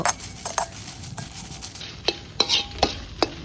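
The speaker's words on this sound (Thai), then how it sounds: "ขัวพริกเฮาก็ขัวไปเรื่อยๆจนกว่าให้พริกสุกจ้า" Dry chilies roasting in a pan for a jaew dipping sauce, stirred with a utensil: repeated scraping clicks and taps against the pan over a faint dry crackle, close and steady, no voices.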